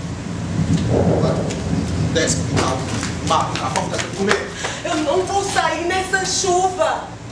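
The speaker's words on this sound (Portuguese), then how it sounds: "Chuva!" Heavy rain with rumbling thunder, a steady downpour throughout, with voices talking over it.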